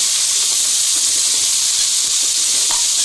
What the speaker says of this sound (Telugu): వీటిని ఒక 5 మినిట్స్ అయితే మీడియం ఫ్లేమ్లో అయితే ఫ్రై చేసుకుందాము.